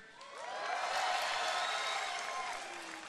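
A crowd at the live Blizzcon 2010 StarCraft event swells into cheering and applause, building over a second and then fading slowly while whoops and shouts ring out across the hall.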